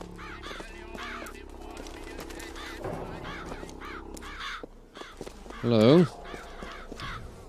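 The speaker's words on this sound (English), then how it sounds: "The sound of so many birds." A flock of crows cawing repeatedly in harsh bursts in the video game Bioshock Infinite, with one loud, close caw standing out near the end; a voice speaks briefly.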